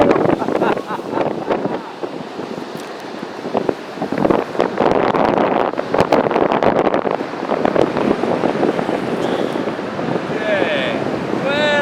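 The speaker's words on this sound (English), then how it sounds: "we just got hit with over a 20-mile-an-hour gust, which picked me up and sent me down the beach" A strong gust of over 20 mph sweeps across a beach during paragliding, a loud, continuous roar of wind buffeting the microphone that surges and wavers throughout, with some faint whistling tones near the end.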